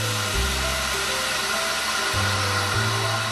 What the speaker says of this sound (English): degas the mixture. This is something else you do with a vacuum machine.